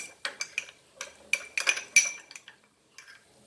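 Prawns being mixed with marinade in a bowl, giving a string of close, crisp clinks and scrapes of utensil against the dish, irregular and fairly loud, without talk.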